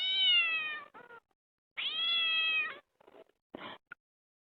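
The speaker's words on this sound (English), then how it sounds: "Sorry, that was my cat, Jules." A house cat meows loudly and close by in two long drawn-out calls, followed by a few shorter, fainter chirps and mews, with silence between.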